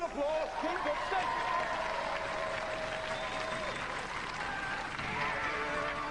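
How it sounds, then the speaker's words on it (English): A studio audience claps and cheers for a robot combat team at a televised robot fighting competition, steady broad applause filling the whole stretch at moderate loudness. "give them a round of applause"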